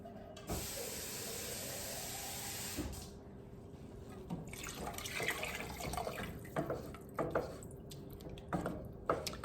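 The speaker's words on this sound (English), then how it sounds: "And I put a little water in there." Water runs from a tap in a steady hiss for a few seconds, then gives way to splashing, pouring and scattered kitchen clatter as water goes into a pot of chili with stewed potatoes and tomato sauce.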